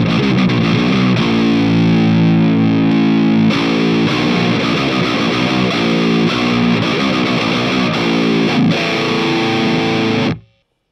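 An electric guitar through a Hotone Krush bitcrusher and sample rate reducer pedal paired with overdrive plays loud, fuzzy, gritty chords and riffs with a harsh digital edge, sustained for about ten seconds before cutting off abruptly.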